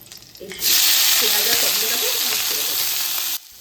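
Ajwain seeds and green chillies hitting hot oil, a loud steady sizzle that bursts up suddenly, holds close and even for about three seconds, then cuts off abruptly.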